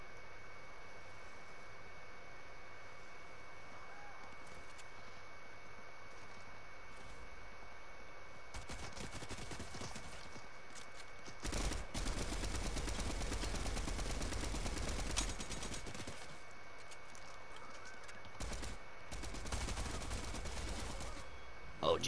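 Boom sniper gunfire in a shooter game, heard as a burst of loud blasts around the middle with dense crackling fire and a few later shots over a constant hiss, no talk.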